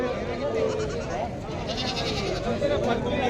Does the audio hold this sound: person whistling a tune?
no